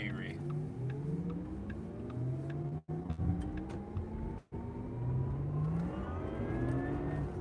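Porsche Taycan 4S electric car with Performance Battery Plus driving, a steady synthetic whirring drive tone that slowly rises in pitch, heard from inside under road rumble, with brief dropouts.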